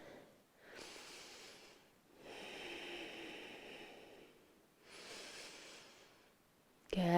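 Slow, deep breaths during a yoga class, three long airy inhales and exhales close to the microphone with pauses between, ending in a sudden louder noise.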